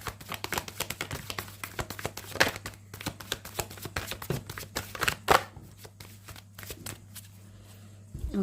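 A tarot deck shuffled by hand, close and clear, with rapid crackling riffles and flutters of cards in uneven bursts over several seconds, with a low steady hum underneath.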